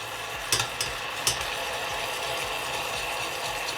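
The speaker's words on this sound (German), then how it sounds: "Jetzt kocht schon der Orangensaft auf." Orange juice with sugar comes to the boil in a pot, giving a steady broad bubbling hiss with a couple of sharp clinks near the start, close and continuous.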